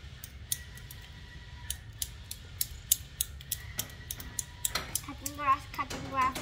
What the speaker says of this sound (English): Don't play scissors.